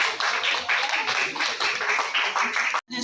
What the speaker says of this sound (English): A round of applause for our guest of honor